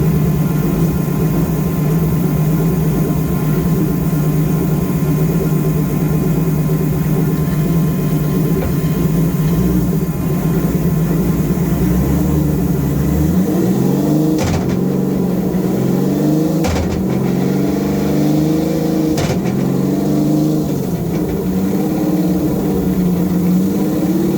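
Jacked-up Nissan S14 with a 2JZ engine runs steadily while a rear wheel vibrates, a droning mechanical hum with periodic wavering and a few sharp clicks partway through.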